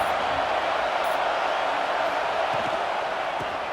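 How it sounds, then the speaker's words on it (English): Crowd roar at a college football game between Texas and Tennessee, a loud, steady wash of stadium noise that holds from start to finish with no clear breaks. "This place is roaring"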